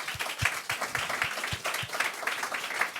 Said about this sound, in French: Merci beaucoup Kenny, je pense qu'on peut aussi l'applaudir